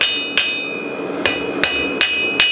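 A blacksmith hammers small steel tines of a toasting fork down to a taper, giving five sharp ringing metallic strikes at uneven intervals, loud and close with no talking.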